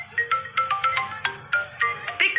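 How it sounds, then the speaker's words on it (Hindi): A mobile phone ringtone plays a bright, repeating electronic melody of quick plucked notes, steady and fairly close, with no voices over it. "मेरा फोन बज गया"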